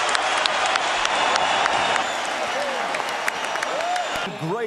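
Boxing arena crowd applauding after a fight between Marco Antonio Barrera and Erik Morales, a dense, sustained wash of clapping and crowd noise, with voices speaking over it.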